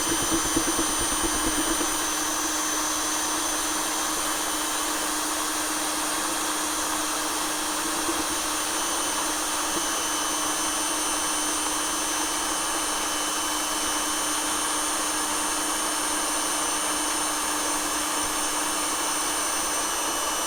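Power drill boring a 3/8-inch drainage hole through the base of a hypertufa pot, a steady loud motor whine running continuously and alone for about twenty seconds.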